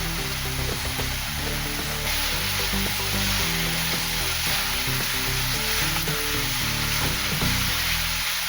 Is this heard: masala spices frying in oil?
yes